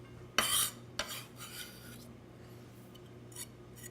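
A knife chops through a pile of fennel fronds in a handful of irregular strokes: a sharp, bright first cut, then softer scraping chops, close by over a low steady hum.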